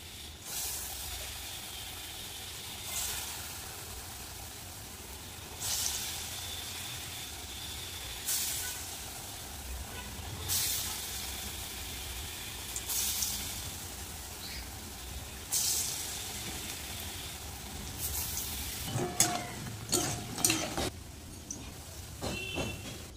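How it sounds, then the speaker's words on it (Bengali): Chana dal fritters (bora) with black cumin are dropped one by one into hot mustard oil in a kadai, each giving a fresh burst of hissing over a steady sizzle, with clattering bursts near the end. "তেল কিন্তু গরম হয়ে গেছে, একে একে বড়াগুলো ভেজে নেব।"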